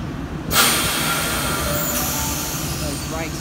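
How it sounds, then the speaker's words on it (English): A Chopper C set Sydney electric train departing a platform with a rising rumble of wheels and motors, faint high squeals and a steady roar close by. "Now departing platform number 4."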